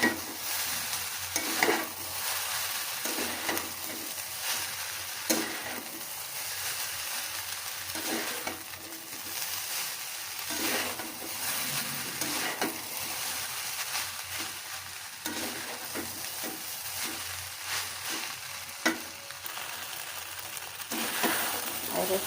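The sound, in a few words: stirring noodles in a pan after adding salt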